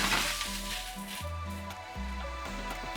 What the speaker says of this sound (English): Go ahead and add our mushrooms.